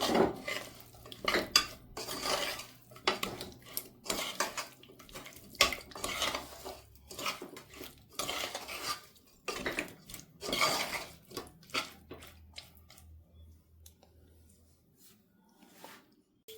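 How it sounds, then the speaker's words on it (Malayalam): Finely chopped meat pieces are stirred and mixed in a bowl with a utensil, making a run of close scraping, clinking and squelching strokes that thin out and fade near the end. "അപ്പോൾ അത് നമുക്ക് ഇതിലിട്ട് കൊടുത്ത് മിക്സ് ചെയ്യാം."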